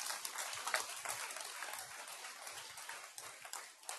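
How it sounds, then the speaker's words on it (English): After a short conference talk on building a WebGL game, an audience claps in a steady, dense patter that stays faint and distant for several seconds. "Yeah, applause."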